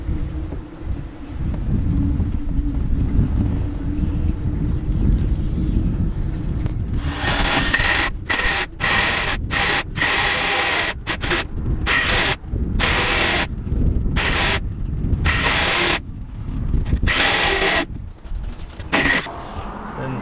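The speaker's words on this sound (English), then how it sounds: "Go ahead and drill your hole." A loud power drill whirs in stuttering on-off bursts, biting through a boat hull up close, after several seconds of windy rumble and handling noise.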